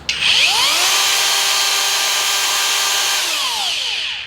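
A rotary tool running at 25,000 RPM spins up quickly to a loud, steady high-pitched whine that holds for several seconds before winding down at the end.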